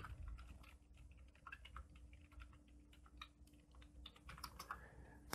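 Fingers type on a computer keyboard in quick irregular bursts of light clicks and taps, close and fairly quiet, with no one talking.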